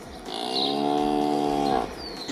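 A cow moos once, a long, loud, steady low call lasting well over a second, close by and heard alone in a home setting.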